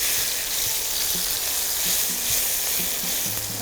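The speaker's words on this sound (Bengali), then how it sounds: "এবারে একটু অল্প করে নাড়াচাড়া করে নেব" Jujubes frying in a pan while being gently stirred, a continuous close sizzle with light spatula scrapes and knocks against the pan.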